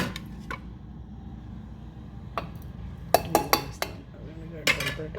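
A spoon taps and clinks against a dish while red chili powder goes into roasted gram, several sharp metallic chinks in quick succession over a quiet background.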